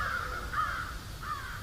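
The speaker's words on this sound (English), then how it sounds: "There's a gathering of crows right over there." A gathering of crows cawing overhead outdoors, three drawn-out harsh caws spaced across the stretch, moderately distant over a low steady background rumble.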